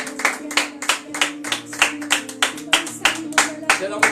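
A church congregation claps in a steady, rhythmic beat, sharp hand claps about three per second over a low background hum.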